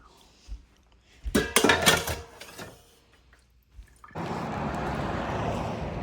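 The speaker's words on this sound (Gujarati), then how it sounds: "હવે જમવાનું પતી ગયું ને બધા વાસણ બધું ઘસી દઈએ." Dishes and utensils being scrubbed after a home meal: a few bursts of clinking pots and cutlery up close, a pause, then steady running water from the tap.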